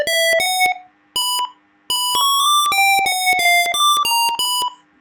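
A water tank level sensor alarm sounds as a loud electronic beeping melody in short bursts of tonal notes with brief gaps between, close and clear without talk.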